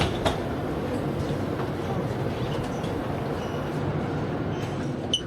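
A train car rumbles along steadily with a continuous low roar and faint rattling, no voices heard, near Charles de Gaulle airport.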